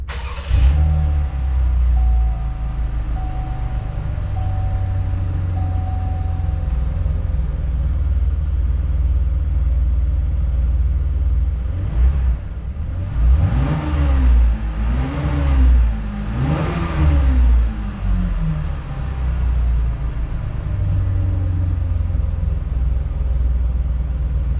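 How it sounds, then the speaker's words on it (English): A 2019 Chevy Blazer's V6 engine cranks and starts via push button, then revs up several times in quick bursts before settling into a steady, close idle rumble. "press the engine stop start button and listen to that V6 roar"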